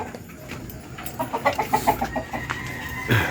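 A Boston Roundhead rooster gives a quick run of about eight close, rhythmic clucks, followed by a louder squawk near the end against a quiet farmyard background.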